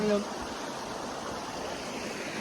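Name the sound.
river stream flowing water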